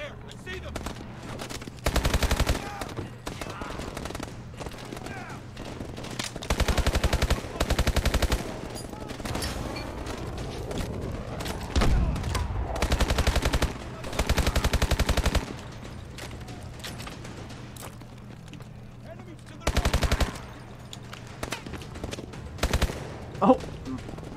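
Bursts of automatic weapon fire in the Call of Duty: Advanced Warfare campaign, with several loud sustained volleys spaced across the stretch and quieter game ambience between them.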